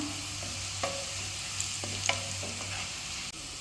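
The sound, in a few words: stirring and roasting onion, garlic, coriander and pepper powder in pan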